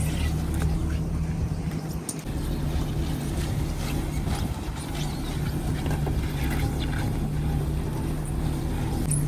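A fishing boat at sea during deep-sea gillnet fishing in stormy weather, its engine giving a constant loud low drone with a steady hum, wind and water wash layered over it.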